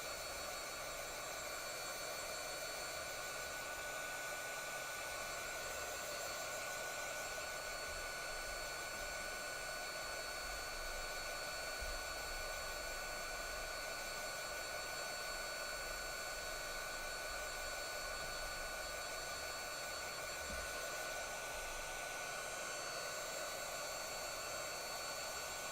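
A hair dryer blows steadily on a freshly painted Christmas gnome, a loud, unbroken whoosh of air from start to finish with no pauses.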